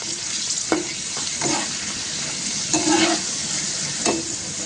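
Grated potato for chivda fries in hot oil, a steady loud sizzle broken by several stirring scrapes, close and without talk.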